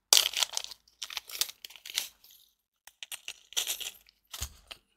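A small plastic bag, tucked inside another bag and holding tiny beads and paper fasteners from an online-shop order, is pulled and torn open in several short, close crinkling bursts separated by brief pauses.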